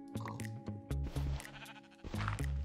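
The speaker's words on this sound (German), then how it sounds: "Aus dem Weg, Schafe!" Sheep in Minecraft bleat in repeated short, loud calls close by, several in a row with brief gaps.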